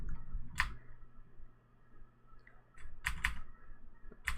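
Short bursts of computer keyboard typing while coding, a quick cluster near the start and a few more near the end, separated by quiet.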